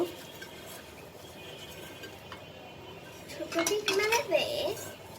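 A steel bowl clinks and scrapes on a kitchen surface while being brushed with oil for a homemade cake, quiet at first and then a louder burst of metallic handling near the end, with faint background voices.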